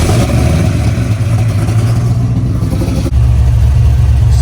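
A car engine runs loud and rough up close, rumbling and clattering steadily, with a brief dip and a surge partway through.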